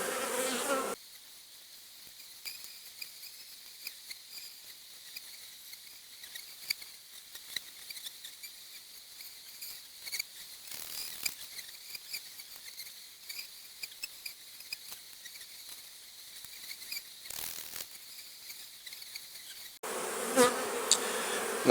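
Honeybees drone steadily and quietly through a hive inspection, a soft continuous hum with faint scrapes and taps from handling the frames, and brief bursts of louder noise at the start and end.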